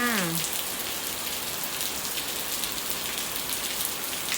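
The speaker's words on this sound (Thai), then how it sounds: "ฝนตกที่จันทบุรีจ้า" Steady rain falls around a house in Chanthaburi, a dense, even hiss of drops that holds at the same loudness throughout, with a brief voice-like tone right at the start.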